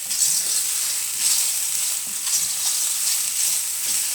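A small pat of butter sizzles steadily in a hot pan, a continuous close hiss and crackle with soft pulsing swells, no voices.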